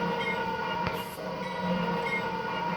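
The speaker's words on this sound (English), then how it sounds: "I only really want the first bell that you can hear in this" Trainz video game train sounds, a steady rumbling rail hum with a brief bell-like ping partway through, loud and continuous with no voices.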